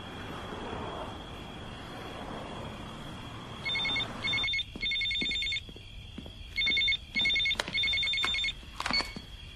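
A telephone rings in repeated electronic bursts, each trill separated by short gaps, loud and close against a quiet room with no talking.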